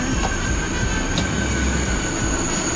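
A train rumbles along the rails close by in Paris, a steady heavy roar with faint metallic squeals and clicks, no talking.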